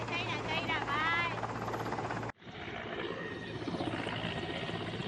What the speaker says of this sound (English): a man stranded on a pole amid rising floodwaters was rescued using a chopper